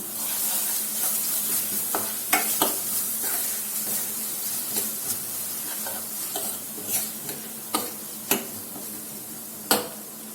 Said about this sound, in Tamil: அரைச்சி வச்சிருந்த ஆனியன், ஒட்டை லவங்கம், மசாலா விழுது இதில் சேர்த்துக்கலாம்.